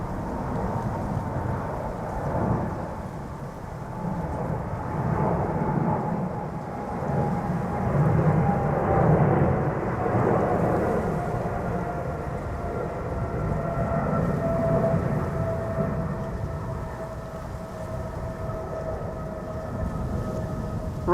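Airliners taxiing and taking off on the Polderbaan runway at Amsterdam Schiphol: a distant, steady jet engine roar that swells and fades, with a faint high whine running through it.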